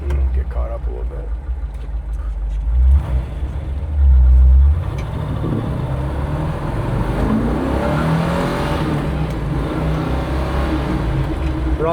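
A 1962 Chevrolet Bel Air on a test drive, its engine humming and rumbling steadily from inside the cabin, with a brief louder surge near the start, while people talk over it.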